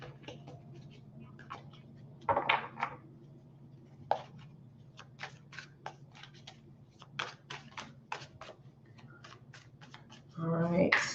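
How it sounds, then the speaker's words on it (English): Tarot cards being shuffled by hand, giving a run of short, crisp papery flicks and taps in irregular bursts, with a louder riffle near the end; close and fairly quiet, with no talking. "Let me shuffle, and then I will go through and pick."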